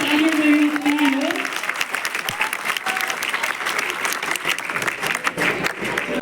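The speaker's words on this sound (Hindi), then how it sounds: "तो जोरदार तालियां होना चाहिए" An audience at a Bihar Diwas celebration at a university gives loud, sustained applause for young performers, with a brief voice at the start before dense clapping fills the rest.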